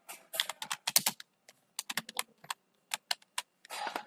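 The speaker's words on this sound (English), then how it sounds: "and then we'll type our name here" Bursts of quick keystrokes on a computer keyboard as a name is typed, close and crisp, coming in uneven clusters with short pauses between and no voices.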